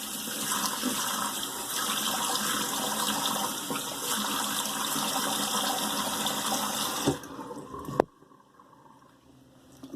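Tap water running steadily as a face is rinsed after a shave with soap and alum, a close continuous rush that cuts off near the end, leaving near silence with a faint splash.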